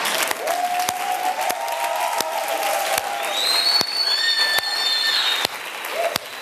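A television studio audience claps in a sustained, even burst of applause, with a few faint whistles over the clapping.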